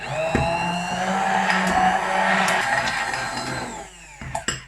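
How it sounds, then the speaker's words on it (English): A stick blender whirs steadily at high speed, its motor pitch wavering as it churns a thick vegan batter, then stops with a few clunks. "we're going to just blend it until it's smooth"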